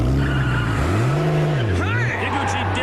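A car speeds off from a police stop, its engine note rising and falling through gear changes alongside tire squeal, loud and sustained over continuous background talk and music.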